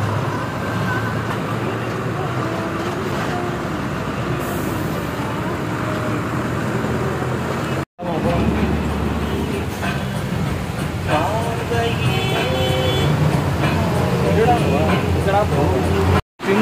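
A lorry rolls through slow road traffic near the Meghalaya-Assam border, its engine and road noise droning steadily and loudly while someone talks over it.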